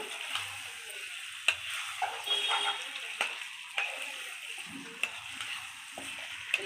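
Vegetable pieces for curry are stirred and fried in a pan at an outdoor cooking spot, giving a steady sizzle broken by sharp scraping clicks of the stirring utensil.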